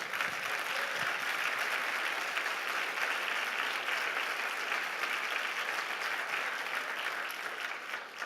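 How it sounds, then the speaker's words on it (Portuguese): A church congregation gathered for a pastors' coffee meeting breaks into sustained, dense applause that holds steady throughout, a full roomful of clapping with no speech over it. "Vamos dar um aplauso a Jesus?"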